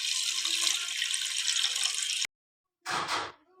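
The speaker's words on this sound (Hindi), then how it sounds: "अब हम इसमें यखनी डाल देंगे।" Yakhni stock pours into a cooking pot of fried yogurt for chicken pulao, a steady liquid rush that stops abruptly, then a brief second pour after a short silence.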